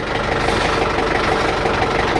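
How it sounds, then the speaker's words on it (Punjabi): A steady, rumbling tractor engine idles close by, a continuous low drone with no breaks or voices. "ਟਰੈਕਟਰ ਕਰਤਾ ਸਟਾਰਟ"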